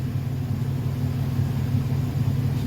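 A 1931 Ford Model A engine runs steadily after fresh gas is added, a low rumbling idle with a slight uneven pulse, close and continuous with no voices.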